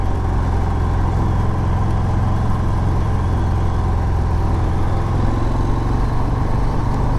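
Harley-Davidson 2019 FXDR motorcycle on a test ride, a loud, dense engine rumble mixed with wind rush, steady and unbroken from start to finish without any talking.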